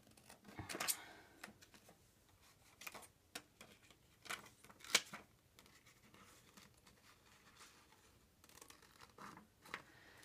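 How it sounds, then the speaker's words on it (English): Scissors snip by hand around a clear acetate transparency for a shaker card, giving quiet, irregular crisp cuts and rustles spaced through the quiet, with a few sharper snaps. "I'm just going to grab some scissors here and just kind of trim around."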